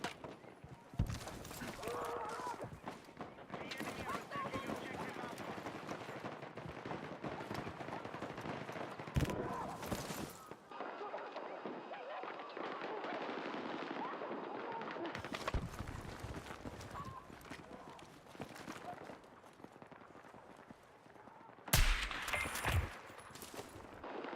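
Rifle fire in a military shooter game crackles through dense battle noise, with several sharp broadband shots standing out near the start, around ten seconds, around fifteen seconds and in a loud cluster near twenty-two seconds, while a player talks over it.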